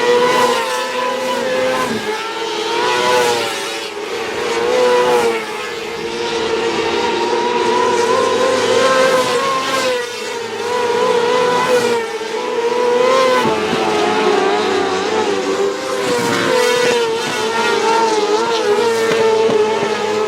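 Small race cars run hot laps at Linda's Speedway, a small track. Several engines drone and rev together at a loud, steady level for the whole stretch, with the pitch rising and falling as the cars circle and no voices over them.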